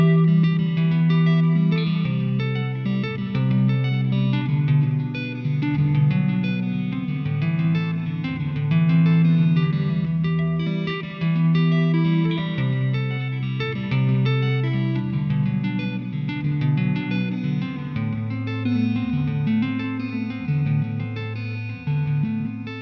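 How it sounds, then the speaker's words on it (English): An electric guitar plays through a Fender Tre-Verb reverb pedal, a continuous chordal and melodic passage with a washy ambient tail and delay-like echoes, sustained and fairly loud throughout. "so it's ambient and reverby, but not really. It's a delay"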